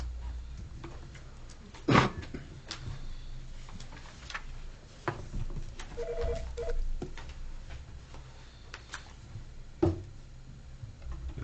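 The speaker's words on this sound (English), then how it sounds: "That was just the bat phone." A telephone rings during a town council meeting, giving a short electronic ring that recurs a few times among quiet room noise, knocks and shuffling, with no talk over it.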